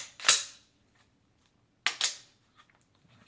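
A .45 pistol with an empty magazine handled during a safety check gives two sharp metallic clacks, about one and a half seconds apart, close and crisp against near silence.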